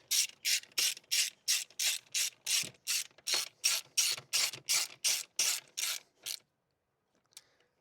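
A ratchet tightens a bolt on a Nissan Qashqai 1.3 DIG-T engine with about fifteen even, crisp clicking strokes in a steady rhythm, close up. Silence follows with one faint tap at the end.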